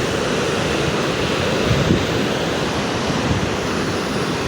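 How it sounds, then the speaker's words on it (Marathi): Sea waves at Ganesh Gule beach give a continuous broadband wash of surf, steady and moderately loud with a faint swell near the middle, mixed with some wind noise and no voices. "हे समुद्र गणेश गुले बीच आहे"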